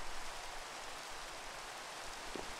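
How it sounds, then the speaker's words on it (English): Rain falls steadily in the Minecraft video game, a soft, even hiss of drops that stays constant and fairly quiet, with no thunder. "it's raining"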